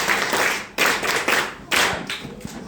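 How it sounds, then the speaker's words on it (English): Classroom students clap their hands together in a few loud, dense bursts of applause that stop and restart, close by with no talking. "Can we clap hands for her?"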